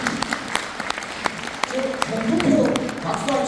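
Scattered sharp claps build into fuller applause from an audience at a lecture hall talk, while a speaker's voice carries on over the clapping.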